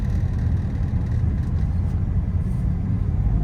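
A Tata Tiago AMT hatchback in third gear labours up a steep, winding mountain road, its engine a steady low rumble and whir heard from inside the cabin.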